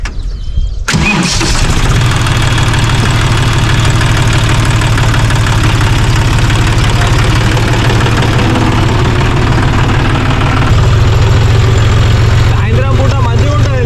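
A Kubota tractor engine starts after a brief quiet moment and then idles with a loud, steady low throb near a village stream, its rhythmic knocking drone continuing throughout.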